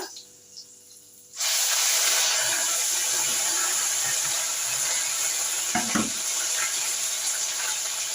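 Ginger dropped into hot oil with fried cumin bursts into a sudden loud, steady hiss of sizzling that holds on, with brief clatters of utensils partway through.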